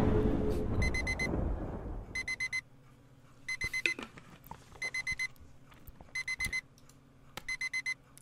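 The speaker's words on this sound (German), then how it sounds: "Warum stellen wir uns 8 Minuten vorher einen Wecker?" An alarm clock rings in the video game The Beast of Lycan Isle, sounding loud, bright electronic beeps in short rapid bursts that repeat at regular intervals after a brief rumbling opening.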